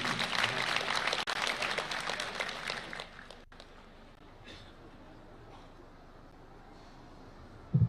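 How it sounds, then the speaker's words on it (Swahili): Audience applause at a Mashujaa Day commemoration in Kitui, Kenya, greeting Mozambique's Prime Minister: loud sustained clapping for about three seconds, then dropping away to a quiet ambient murmur. "Wapi makofi ya mama Prime Minister wa kutoka Mozambique jameni."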